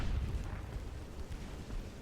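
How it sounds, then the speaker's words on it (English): Six-inch naval guns fire in a warship battle from Ultimate Admiral Dreadnoughts, with distant low booms rolling under a quiet rumbling background, faint and without talk. "Okay, so the 6-inch guns are now finally firing."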